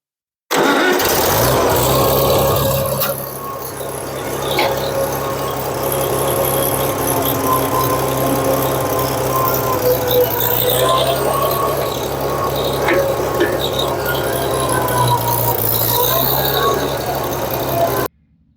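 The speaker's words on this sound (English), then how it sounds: "I can start the tractor up and pull away" An old International Harvester 460 tractor engine cranks and catches, then settles into a steady mid-pitched chug with occasional revs and squeals as it moves off; voices are faintly heard.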